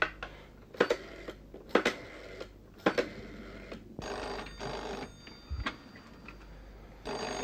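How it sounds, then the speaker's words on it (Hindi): A telephone rings in repeated bursts of bright electronic trills separated by short pauses, near and clear, with no speech. "फोन उठा क्यों नहीं रही है?"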